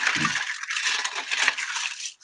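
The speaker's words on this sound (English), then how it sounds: "what I'm going to do now, I'm just going to add some ice." Ice is dropped into a glass for a rum drink, giving a dense rattling and clinking of cubes that is close and fairly loud, ending with a short final clink, with no talk.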